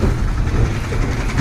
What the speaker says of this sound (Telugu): సంగం డైరీ వాళ్ళది ఆటో